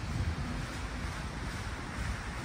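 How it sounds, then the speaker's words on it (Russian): Strong cold wind on an October day outdoors in Riga, Latvia, a continuous roaring rush buffeting the microphone with no talk. "Ветер сильный"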